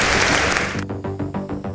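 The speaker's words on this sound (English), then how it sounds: "A round of applause for our panelists." Audience applause for panelists at a live Festival of Dangerous Ideas session at Carriageworks Sydney; dense, sustained clapping fills the first part, then thins into scattered separate claps and background sounds.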